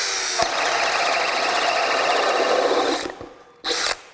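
A Craftsman brushless hammer drill bores steadily with a loud, even whine for about three seconds, cuts out, then gives one short final burst.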